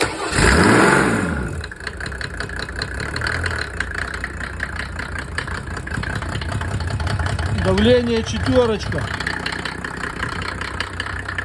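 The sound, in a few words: diesel car engine starting and idling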